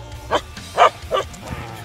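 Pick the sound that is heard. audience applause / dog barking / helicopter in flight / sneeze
dog barking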